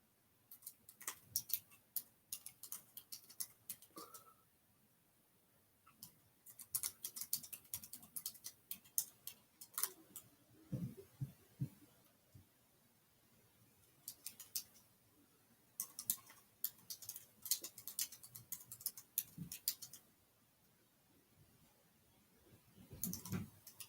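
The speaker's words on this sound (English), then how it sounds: "My keyboard wasn't trying to cooperate." Computer keyboard typed on in bursts, with rapid light key clicks coming in clusters separated by short pauses, fairly quiet and close, with no voice.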